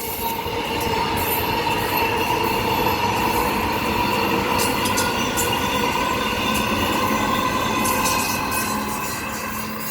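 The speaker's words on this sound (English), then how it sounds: "Now leaving Butler, this will be the last train for the video." A six-car EMU commuter train pulls out of Butler station with a steady rumble, sustained wheel squeal and rail tones, close and loud for the whole stretch with no talking.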